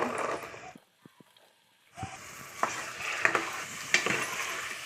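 Beans and peas stirred and fried in a pan for vegetable kurma, a soft sizzle broken by a quiet pause and a few light taps, then scraping stirs with occasional spoon clinks against the pot.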